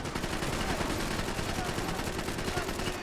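Dense, continuous gunfire in Max Payne 3, with rapid overlapping shots forming a sustained loud barrage and no pauses.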